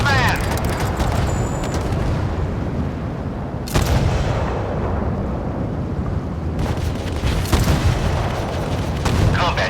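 Warship guns firing in Force of Warships, repeated heavy booms and rumbling blasts over a dense roar of naval combat, with game voice commands in the mix.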